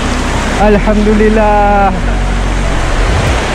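A waterfall on a forest stream roars as a loud, steady rush of falling water that fills the whole scene without a break. A voice speaks briefly over it.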